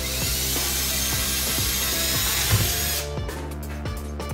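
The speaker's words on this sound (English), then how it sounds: "Now I'm going to drill here." A power drill bores through a hollow shovel handle for a DIY metal detecting shovel, its steady whining hum running close and loud for about three seconds before cutting off into quieter room tone.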